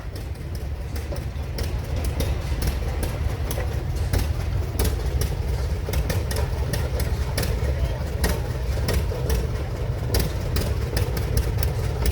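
A 1929 John Deere Model D tractor runs steadily in an antique tractor parade, its engine thumping in a rapid, even rhythm at close range, with a voice talking over it.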